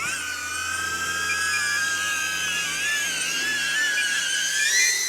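Propellers of a DJI Avata 2 FPV drone spin up with a steady, high-pitched whine and buzz, close and fairly loud, holding a constant tone with slight wavering and no talk.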